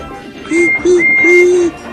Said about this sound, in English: Whistled Toby.